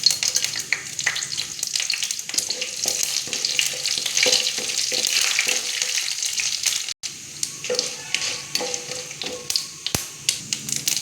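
Mustard seeds sputter and pop in hot oil with dried red chillies and urad dal, a steady close sizzle with scattered crackles and occasional stirring taps.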